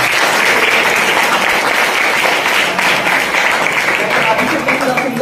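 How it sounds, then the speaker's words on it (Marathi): Loud sustained applause from a college audience at a Guru Purnima function at Shri Saibaba College, Shirdi, a dense unbroken roar of clapping lasting the whole stretch. "त्यासाठी जोरदार टाळ्या"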